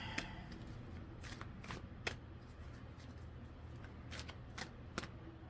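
A deck of cards is shuffled, with soft papery riffles and occasional crisp snaps of cards, quiet and close, and no talking.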